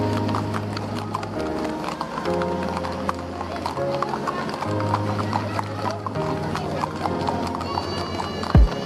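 Hooves clip-clop in a steady rhythm during a guided horse ride around the Tangkuban Perahu mountain tourist area in Bandung, close and clear, with voices in the background.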